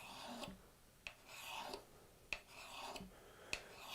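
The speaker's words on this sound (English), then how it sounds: "I grab the burnisher" Steel burnisher drawn along the edge of a card scraper, raising a burr: a soft continuous rasping rub in repeated strokes with small metallic clicks at each turn, close and quiet with no voices.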